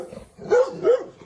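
A large black Presa Canario dog gives two short, deep barks about a third of a second apart, close and fairly loud, with nothing else but faint room noise between them.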